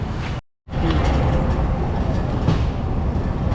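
A steady rumbling ride on the 99 Dhaka Commuter train departing Ishwardi Junction, Bangladesh, with broadband clatter and rolling noise throughout, briefly cut to silence near the start, then continuing loud and close.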